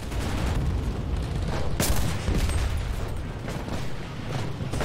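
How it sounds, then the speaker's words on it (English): Dense, continuous gunfire and booming in the WW2 video game Enlisted, loud and steady throughout with a sharp blast near the two-second mark amid constant battle noise. "I'm getting shot at."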